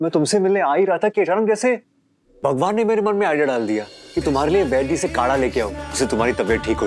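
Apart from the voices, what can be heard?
No everyday noise stands out behind the speech.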